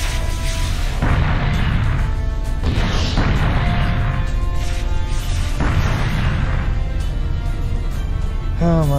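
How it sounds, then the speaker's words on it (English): Planetary missiles launching in the space strategy game Sword of the Stars, a loud continuous barrage of booming blasts and bursts layered over dense game noise throughout. "Good, finally, planetary missiles."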